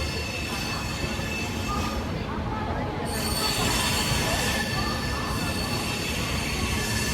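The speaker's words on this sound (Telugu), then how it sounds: "కరెక్ట్గా ఉదయం 10:45 మన ట్రైన్ అయితే విజయవాడ జంక్షన్కి అయితే రీచ్ అయిపోయింది" The Amaravati Intercity Express, arriving at Vijayawada Junction, fills the air with steady loud rumbling and a high sustained wheel squeal. The noise of the rail cars stays continuous and close throughout, with no clear speech.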